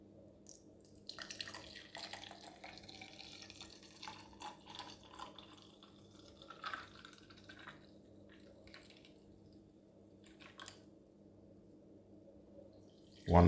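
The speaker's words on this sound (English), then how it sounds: "So now that the juice is all strained, so it's time to pour them out." Strained blueberry, lime and ginger juice is poured into glasses, a soft, faint trickle with small splashes and drips in a quiet room, ending in a sudden louder knock.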